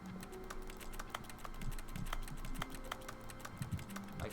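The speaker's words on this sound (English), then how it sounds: "I can make keyboard sounds wherever I want." Rapid computer keyboard typing during a Stanley Parable office scene, a steady stream of close clicky keystrokes with irregular rhythm and no talk.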